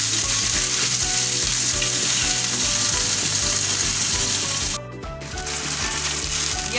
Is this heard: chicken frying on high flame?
yes